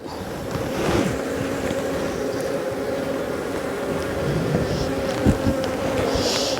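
Bees hum steadily at an open beehive while a beekeeper checks brood frames and queen cells on a cold, wet May day, a dense continuous drone close by with occasional louder passes of single bees.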